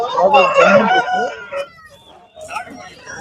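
A rooster crows loudly and close by in one long, wavering call at a livestock market, followed by quieter background sounds and a few faint voices.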